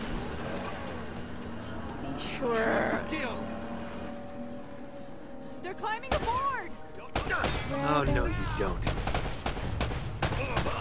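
Bursts of gunfire in the video game Uncharted: Drake's Fortune, loud clustered shots and volleys in the second half, mixed with character voices talking and a rumbling engine-like background.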